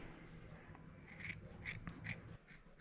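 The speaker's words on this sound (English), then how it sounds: "Let's go ahead and cut down this outside trim." Scissors cut through a bass boat's interior trim, close and crisp, with three or four distinct snipping crunches over a low rustling background, no voice.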